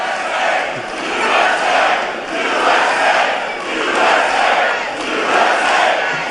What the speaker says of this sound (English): Crowd drowns him out.